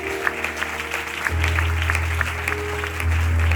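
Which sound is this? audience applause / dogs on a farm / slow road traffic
audience applause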